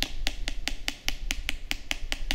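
Hard caramelized sugar crust on a limoncello crème brûlée is tapped about a dozen times in a quick, even rhythm, each tap a crisp, close, glassy click with no talking.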